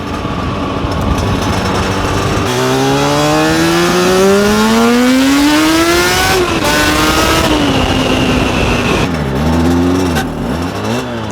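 Suzuki RG500 two-stroke motorcycle at night with an unhealthy brand-new clutch, its engine loud and close, revving up through rising pitch sweeps, then dropping off and blipping again near the end.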